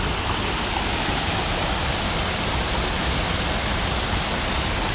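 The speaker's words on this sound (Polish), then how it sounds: "tutaj wpływa ten strumyczek" A small stream flows through a Japanese garden in Wrocław, giving a steady, dense rush of running water that fills the clip evenly at close range, with no talk over it.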